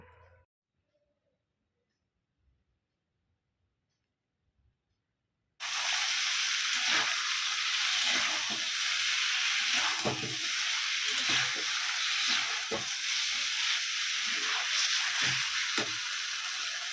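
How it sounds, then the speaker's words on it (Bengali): Runner beans, potato, aubergine and fried lentil bori being sautéed with spices in a pan, silent at first, then a sudden loud, continuous sizzle with repeated stirring scrapes close up. "এ দিয়ে এবার মশলার সাথে খুব ভালো করে সবগুলো কষিয়ে নেব"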